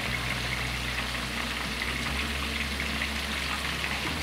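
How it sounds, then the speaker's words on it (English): Chicken for Korean dakgangjeong frying in hot oil gives a steady, even sizzle and crackle with a low hum underneath, continuous and close throughout. "As the chicken continues to fry"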